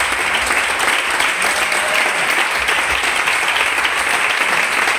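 A church congregation applauding and cheering steadily, a dense, even wash of clapping that fills the room without pause for several seconds.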